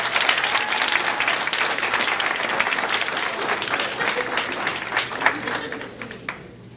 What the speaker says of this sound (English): let's give one more round of applause for them